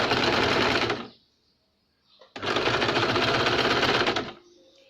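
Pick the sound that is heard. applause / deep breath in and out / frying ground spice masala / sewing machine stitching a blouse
sewing machine stitching a blouse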